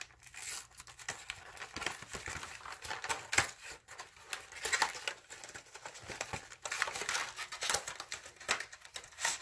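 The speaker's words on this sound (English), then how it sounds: "Let's go ahead and open it up." A claw machine prize package is torn open by hand: continuous crinkling and tearing of plastic and paper, close and busy, with no voice.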